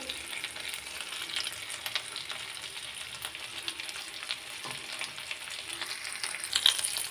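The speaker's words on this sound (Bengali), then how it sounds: "অল্প অল্প তেলে ভাজি করবেন" Tandoori chicken pieces fry in a small amount of oil, giving a steady close hiss and crackle with occasional soft stirring scrapes and pops, no talking.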